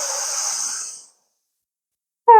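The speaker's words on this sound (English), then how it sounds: "Again, breathe in." A deep, steady breath drawn in during a Kundalini-inspired yoga exercise, a soft airy hiss lasting about a second before fading into silence.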